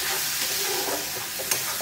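Spices with Kashmiri red chili powder fry in a pan for a rohu fish curry, a steady close sizzle and hiss with light stirring scrapes.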